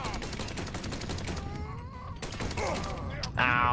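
Scattered gunfire from AK and M16 rifles in the Mafia 3 video game, crackling shots mixed with game ambience and a voice speaking over it, getting louder toward the end.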